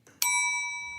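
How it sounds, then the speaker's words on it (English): A bell is struck once during a podcast, giving a sharp, bright ring that hangs and slowly fades with a clear sustained tone. "What is the bell happening for?"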